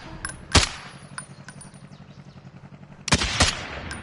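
Call of Duty Warzone gunfire: two loud sharp shots early, then a dense close burst of rapid fire near the end over a low rumbling game background.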